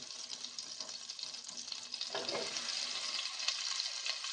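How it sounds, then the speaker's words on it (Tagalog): White onion sautés in melted butter with a soft, steady sizzle and light crackle, fairly quiet and close, with a few faint stirring scrapes and no speech. "Kanya, atong gisahon ng atong sibuyas. White onion."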